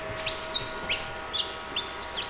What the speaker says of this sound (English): Look at that, a little handful of baby chicks.